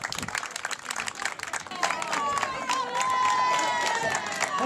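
A crowd at a medieval fair ceremony in Alvalade claps and cheers, the applause swelling and growing louder over a few seconds, with a voice and bright tonal sounds rising within the noise.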